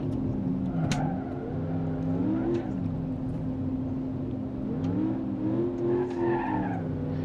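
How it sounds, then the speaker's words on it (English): Gavril H45 Boxvan box truck in BeamNG.drive, its worn engine losing power, revs in a steady droning whine with rising and falling pitch while its tires skid and scrub, loud and continuous throughout. "this engine's down on power. It's been running so hard it's starting to lose power."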